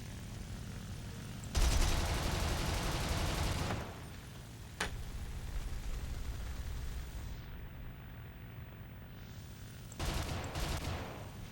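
Aircraft machine guns blaze from an Fw 190 A-4 fighter in War Thunder, with two loud sustained bursts of rapid fire and a single sharp shot between them over steady engine drone.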